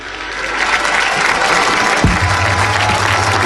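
An audience greets Senegal's President Bassirou Diomaye Diakhar Faye with loud, sustained applause filling the hall, a dense wash of clapping with a low hum entering partway through.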